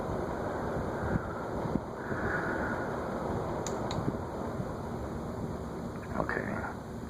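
A large air-moving fan in a museum stairwell winding down, a steady broad whoosh of moving air with a faint hum that carries on through the whole stretch, no voices.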